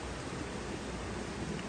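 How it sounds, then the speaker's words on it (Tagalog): Steady rain falling on a goat farm, a broadband hiss that holds level and continuous throughout with no voices. "Dahil ngayong umuulan"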